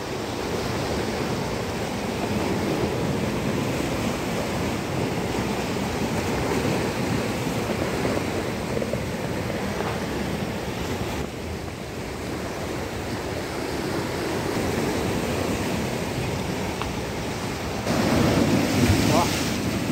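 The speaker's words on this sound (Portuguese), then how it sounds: "daqui a pouco vai vir uma onda com tudo aqui já" Ocean waves breaking on the shore in a continuous loud wash of surf with wind buffeting the microphone, a heavier surge near the end.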